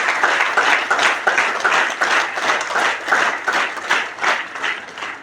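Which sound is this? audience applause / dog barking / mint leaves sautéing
audience applause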